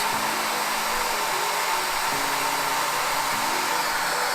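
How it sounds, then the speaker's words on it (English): A digital heat gun set to a low 50 degrees, used while painting a fishing lure, blows hot air in a continuous close whooshing hiss with a steady motor hum underneath, alone without talk. "always be careful when you use a heat gun. This one is a digital one"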